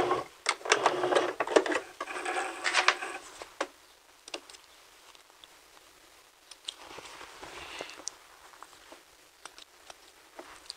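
A sewing machine back-stitches a pocket piece in quick rattling bursts, a loud run of rapid needle stitching first, then pauses broken by isolated clicks and a softer second run.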